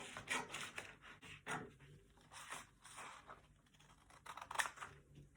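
Scissors cut through pattern paper for a cowl neck in soft, quiet snips and rustles, several short cuts close by.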